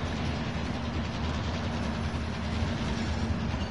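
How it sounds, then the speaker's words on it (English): A train rolls past in Warzone, a loud, continuous low rumble with rhythmic rail clatter that stays steady and close the whole time. "Train's coming."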